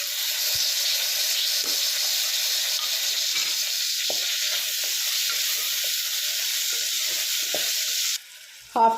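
Tomatoes sizzle and fry steadily in a hot pan of oil with mint and coriander for a roadside-style parotta salna, a loud continuous hiss with occasional stirring scrapes, ending abruptly near the close.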